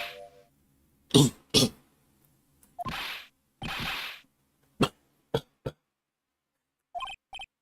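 Several short, sharp coughs and throat-clearing bursts, spaced out with silent gaps, sounding synthetic like a character's cough effect in Phoenix Wright: Ace Attorney.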